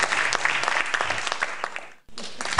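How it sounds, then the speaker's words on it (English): A game show audience claps in a dense burst of applause, which breaks off for a moment and then resumes. "round of applause for Team Grace"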